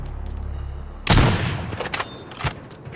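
Gunfire in a video game firefight: a sudden loud burst of shots around the middle, then further bursts and scattered shots, with a low rumble underneath and a few brief voices.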